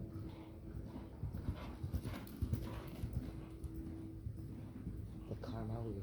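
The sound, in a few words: horse hooves cantering during long lining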